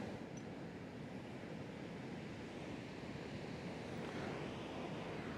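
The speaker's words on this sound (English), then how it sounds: "where the waves are coming up onto the shore" Ocean waves wash up onto a sandy beach in a broad, continuous roar that swells slightly toward the end. Wind buffets the microphone, and there is no speech.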